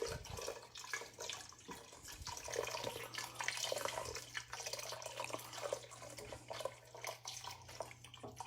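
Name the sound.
two cups of milk poured and stirred into soup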